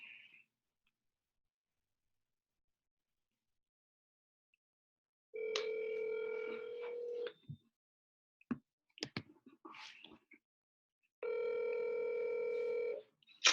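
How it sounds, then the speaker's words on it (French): Phone call being placed: two long stretches of steady dialing or ringback tone separated by a burst of clicks and brief button taps, fairly loud and close, with no talking. "je vais appeler un gars maintenant"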